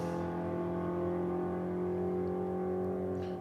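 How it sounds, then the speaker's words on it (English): Holden Monaro drag car idling and building revs at the start line of a drag strip, a steady droning engine note that gradually rises, heard alone without talk. "Monaro just coming up a little bit on RPM before letting loose"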